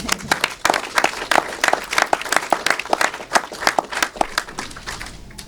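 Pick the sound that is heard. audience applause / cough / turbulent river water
audience applause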